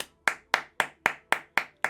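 Eight crisp hand claps in a steady, even rhythm, close and clear, with nothing else around them.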